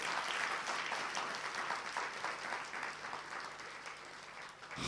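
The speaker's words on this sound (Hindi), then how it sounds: "तालियां थोड़ी ठंडी ठंडी बजा रहे हैं आप" Faint, steady clapping from a seated spiritual gathering, an even patter of many hands that stays lukewarm and never swells.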